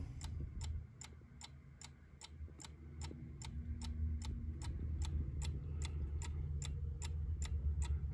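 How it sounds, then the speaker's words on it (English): A Howard Miller Legacy mantle clock ticks at a steady, even pace, about two crisp ticks per second, heard close up and alone over a low background hum. "A beautiful clock."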